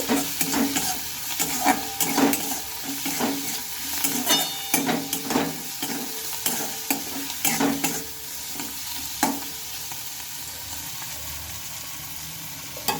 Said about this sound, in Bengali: ধনে পাতাটাকে আবার একটু ভালোভাবে নেড়ে চেড়ে নেব